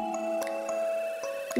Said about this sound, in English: Add about 10 raisins to the glass.